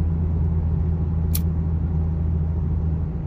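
A 3.7 V6 Ford Mustang cruising at steady speed in fifth gear, heard from inside as a constant low engine drone and road rumble with no change in pitch, broken once by a brief high click.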